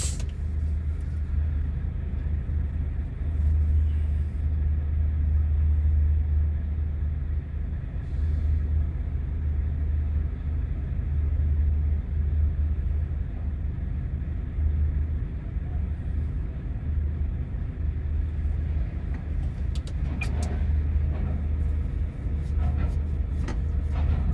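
A truck in a truck-driving game rolls through a small Sicilian town, with a continuous low engine rumble and drone that stays steady throughout, plus a few faint creaks and rattles near the end.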